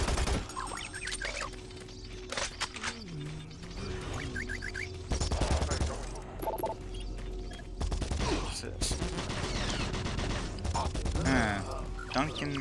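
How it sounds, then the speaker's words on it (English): Gunfire in the sci-fi shooter game Doom 3: loud bursts of shots and crashing impacts run through a dense, busy mix, with game voices talking throughout. "Is somebody shooting me?"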